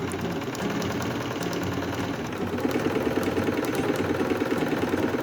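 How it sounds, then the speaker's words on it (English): A sewing machine quilts fabric and batting steadily up close, its needle clattering in a fast regular rhythm that speeds up and grows louder partway through. "Quilt along the marked lines using your sewing machine"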